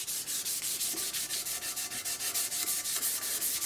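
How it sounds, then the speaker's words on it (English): Hand sanding a scratch-built electric guitar body with 320 grit sandpaper: steady back-and-forth rasping strokes in a quick even rhythm, close and continuous with no talking. "I am sanding with 320."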